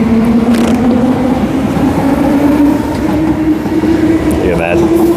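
Train pulling into Whitfords Station in Perth, a steady loud rumble of wheels and motors with a low hum, brief squeal near the end as it slows, background chatter faintly present.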